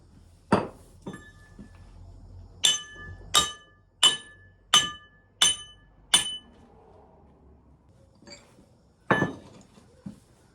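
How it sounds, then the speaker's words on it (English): A hammer strikes a socket fitted over an axle nut on a CFMOTO ZForce 800EX side-by-side: about eight sharp metallic clanks, several in a steady rhythm, then a couple of scattered later taps, close and fairly loud with no talking. "I'm gonna put the socket on the nut, and then I hit the socket that way."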